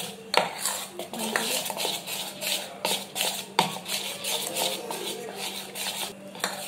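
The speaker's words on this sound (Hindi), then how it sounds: "तो अब हम इसमें ऐड करेंगे थोड़ा सा मिल्क और इसे अच्छे से ऐड कर लेंगे।" Milk being mixed into chocolate cake batter with a spoon in a metal bowl: rapid close clinks and scrapes of the spoon against the bowl in a continuous stirring rhythm, with no talk.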